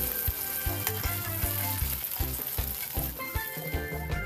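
An egg fries in hot oil in a pan, sizzling loudly and continuously with crackling pops and occasional scraping or stirring knocks, close up with no talk.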